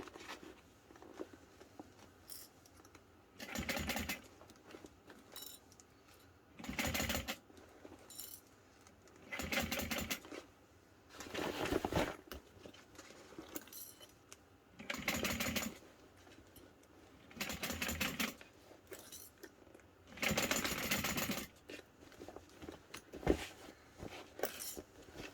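A sewing machine stitches a Denver backpack while the bag is turned to keep the seams lined up, running in about six short bursts separated by quiet pauses, close and fairly soft.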